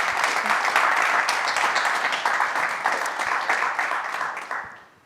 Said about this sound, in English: Paul, how about a round of applause for another great presentation?